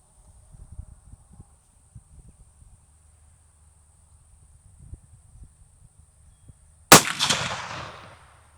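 A single sharp crack from a suppressed 6.5 Creedmoor rifle at an outdoor range, sudden and close, ringing out and decaying over a second against quiet background rustle and insect hum.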